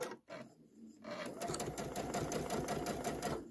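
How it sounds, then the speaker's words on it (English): A sewing machine with auto pivot stitches a Kimberbell bench pillow embellishment, a steady close rapid needle chatter running continuously after a brief quiet start, with faint talk near the beginning. "I have my auto pivot on. I'm gonna sew all the way."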